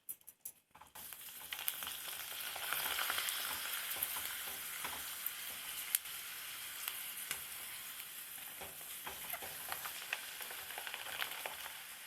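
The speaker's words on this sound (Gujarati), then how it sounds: "હવે આપણા પાપડ તો જો તળ્યા" Papad frying in hot oil, a steady, soft hiss of sizzling that runs continuously for about twelve seconds with no talk.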